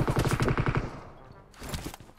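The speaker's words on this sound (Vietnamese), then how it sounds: "Nó bắn tôi ở đâu nhỉ?" Rapid automatic gunfire in the mobile battle royale game PUBG Mobile, a fast string of closely spaced shots for about a second, then a lull and a second burst.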